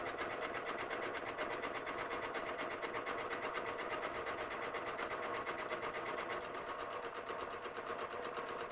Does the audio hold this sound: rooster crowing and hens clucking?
no